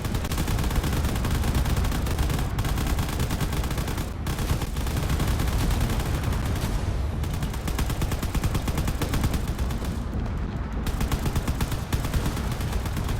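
Weapons in the Drone Wars game fire on fortress turrets in a relentless, dense barrage of rapid gunfire and machine-gun bursts, loud and steady for the whole stretch, with no voices.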